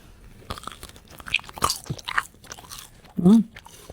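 Someone bites into and chews crunchy food, with a few soft crunches scattered through the clip and a louder burst near the end; faint voices are heard around it.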